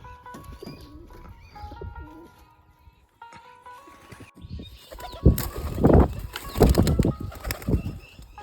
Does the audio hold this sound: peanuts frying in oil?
no